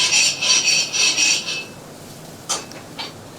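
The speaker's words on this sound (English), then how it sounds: "This is a scraper tool for cleaning. So you just put it between the bars. It makes an awful sound." A metal scraper tool drawn between the bars of a chargrill to clean them gives a harsh, high rasping scrape in about four quick strokes, then two short, fainter scrapes after a pause.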